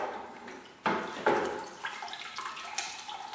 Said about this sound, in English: Shake off the excess water.